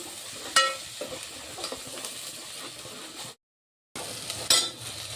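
A roasted spice paste fries in a pan for a spinach and colocasia-leaf curry, giving a steady soft sizzle broken by a few sharp stirring scrapes and clinks, with a brief gap of silence.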